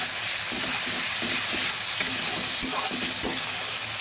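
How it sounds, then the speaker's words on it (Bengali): Katla fish frying in a pan for a Bengali coriander fish curry, a dense continuous sizzle with soft stirring scrapes and light pops, close and loud, no talking. "ভালোভাবে ভেজে নিচ্ছি।"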